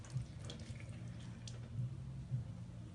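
Running water rinses makeup brushes and sponges at a sink, a soft steady splash that stays low and continuous with no talking.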